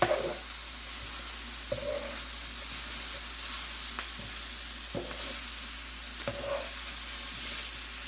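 Hashbrown omelette mixture sizzles steadily in a hot pan, with a spatula scraping and stirring through it in several distinct strokes; close, continuous frying hiss with no talk.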